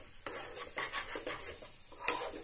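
A spoon scrapes and stirs garlic chutney in a metal pan in steady repeated strokes, with a sharp clink near the end, close up and without talk.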